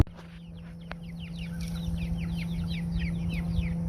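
Chickens, including an older batch and baby chicks, cluck and cheep softly in a cluster of quick repeated calls over a steady background hum.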